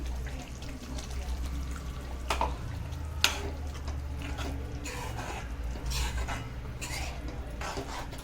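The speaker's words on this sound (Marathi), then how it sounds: "मी अजून याच्यात थोडंसं पाणी घालते." Water is poured into a simmering paneer masala gravy in a pan, a soft continuous trickle over a low steady hum, with a few faint scraping knocks.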